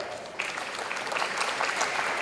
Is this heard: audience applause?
yes